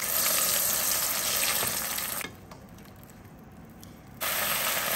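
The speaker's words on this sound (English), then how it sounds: "Once the oil is hot, saute the chili paste." Chili paste sautés in hot vegetable oil in a wok with a loud, close, hissing sizzle. It drops to a faint hush for about two seconds, then returns at full strength, with no one talking.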